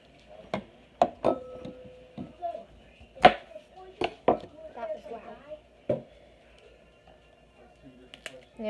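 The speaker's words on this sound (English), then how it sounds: "this manual food processor is a little loud when you use it" A manual food processor chopping beef and broccoli, producing a series of sharp, irregular chopping clacks and knocks close by, with quieter rattling between strikes and a final burst near the end.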